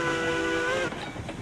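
The whistle of a K27 steam locomotive in the Railroads Online game gives one sustained, harmonic blast of just under a second and then cuts off, leaving a faint rumble of the train.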